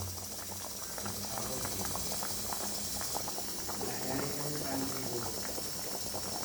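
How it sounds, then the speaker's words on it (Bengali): Yam, tamarind and jaggery mixture boiling in a pot, a soft continuous bubbling and popping, fairly faint and steady throughout. "গুড় খুব ভালোভাবে ফুটে ওল আর গুড় একদম মিশে একাকার হয়ে যাক।"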